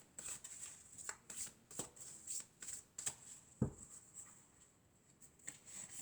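Tarot cards are shuffled and drawn close up, giving soft, quiet riffles and light slaps scattered irregularly over a faint steady background tone.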